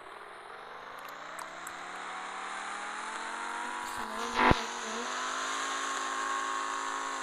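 A car pulls away and accelerates, its engine note climbing steadily through the gears with a smooth rising drone, close and fairly loud, with a brief clunk midway and no talk.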